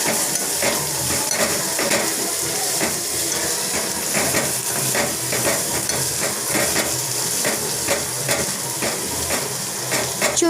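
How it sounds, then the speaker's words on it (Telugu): Turmeric paste being stirred into a dish in a pan: a steady sizzle of frying runs throughout, broken by repeated scrapes and clinks of a spoon against the pot, close and continuous with no talking. "మంచిగా మిక్స్ చేసుకోవాలి."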